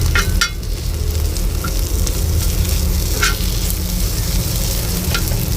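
Boiled potatoes stir-frying in a hot pan on a flame, with a steady loud sizzle and scraping of the spatula, plus a few sharp clinks of the utensil against the pan.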